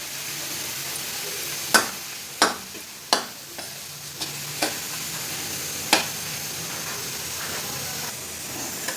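Chopped onions and tomatoes frying in a pan, a steady soft sizzle broken by sharp clacks of a spoon scraping and stirring at irregular intervals, with no talking.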